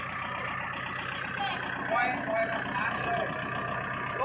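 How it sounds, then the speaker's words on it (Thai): A farm tractor engine runs with a steady, droning mechanical rumble at close range, while people talk over it throughout. "น้องมีดีนะคะขึ้นขับรถไถนะคะ"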